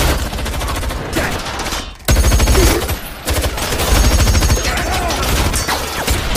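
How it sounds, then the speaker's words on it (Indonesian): Loud, rapid gunfire in a film shootout, with dense bursts of automatic shots and a brief pause before the barrage resumes, close and heavy throughout. "Dan ternyata mereka mempersiapkan senjata yang lebih oke punya dan terjadilah baku tembak."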